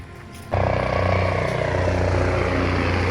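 A helicopter's steady engine roar and rotor drone start abruptly and hold loud and constant, with a faint hum before it begins, heard at the Bangladesh Air Force Museum.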